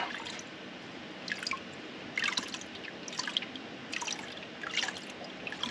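Water drips and splashes faintly from a gold pan in irregular bursts while someone pans for gold, with a low steady background underneath and no talking.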